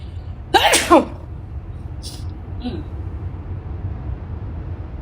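One sharp, close sneeze bursts out near the start, followed by a couple of faint short sounds over a low steady background rumble.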